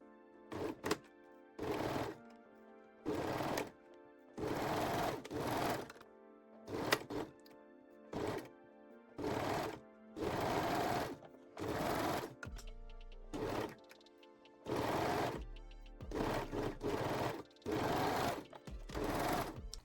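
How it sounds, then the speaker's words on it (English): A serger stitches seams on lace-back Brazilian panties in repeated short bursts of whirring, each run of one to two seconds separated by quiet pauses, close and clear with no talking. "sew them using a serger"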